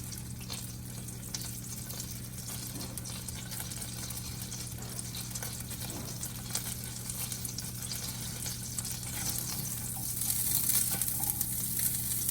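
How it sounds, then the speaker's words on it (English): Margarine sizzling in a frying pan over medium heat, a steady crackling hiss with a low hum beneath, continuous and fairly soft throughout. "Add my margarine to my pan."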